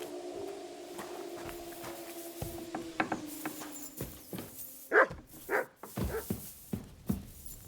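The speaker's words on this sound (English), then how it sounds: "You silly doggy." A dog barks in the medieval video game Kingdom Come: Deliverance 2, a handful of sharp yips that grow louder toward the end over faint clicking and rubbing noises.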